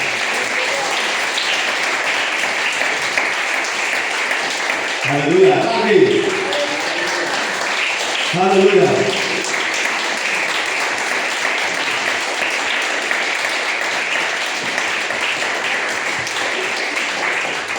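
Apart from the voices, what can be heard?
audience applause in church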